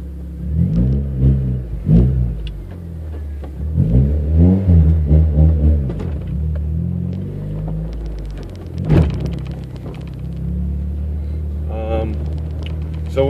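A 1991 Honda Civic's engine rumbles low and steady while driving, with someone talking over it throughout.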